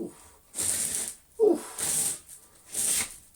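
Vacuum wand being detached from a restored Dyson DC07 upright: three or four separate plastic rasps and clicks, each lasting about half a second, close and fairly loud, with no talk.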